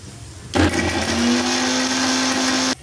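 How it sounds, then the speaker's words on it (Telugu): A mixer grinder grinding spice powder for chicken fry starts abruptly and whirs loudly at a steady high-pitched whine for about two seconds, then cuts off sharply. "మసాలా అంతా కూడా మిక్సీ అయితే పట్టేసుకుందాము"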